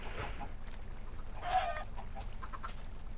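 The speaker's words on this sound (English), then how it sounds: "Michael, it's a chicken. Help me. It's a baby chicken." Minecraft chicken clucking, a short mid-pitched cluck heard over a steady game background hum.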